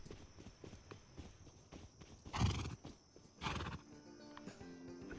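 A buckskin horse in the video game Rust gives two short neighs over faint, scattered hoof clip-clops, quiet overall with no talking.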